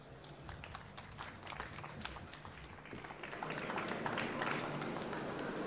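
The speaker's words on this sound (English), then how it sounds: "Please give them a warm round of applause" Applause from a conference audience welcoming two speakers, faint and distant at first, then swelling into fuller clapping from many hands, with no speech over it.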